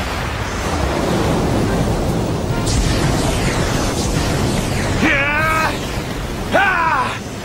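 A loud, roaring rush of water surges for several seconds as a tsunami-wave special shot in an Inazuma Eleven soccer match, with excited cartoon voices shouting near the end.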